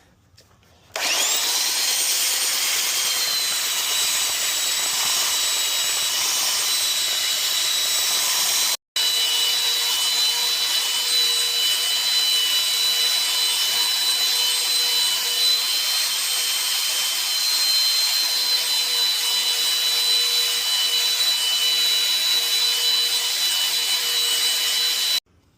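Wood for an earring display stand is sanded smooth with a power sander, a loud continuous whine that runs steadily, breaks off briefly once, then resumes to the end.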